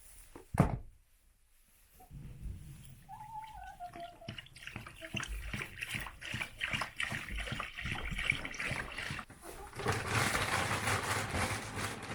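Water runs and splashes as a chickens' waterer is refilled on a homestead, a steady trickle and pour that swells louder near the end, with a sharp knock at the start.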